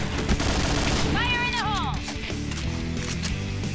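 Bursts of rapid gunfire from the Point Blank shooter game crackle under a man's speech, mixed with game sound effects including a rising-falling tonal chirp.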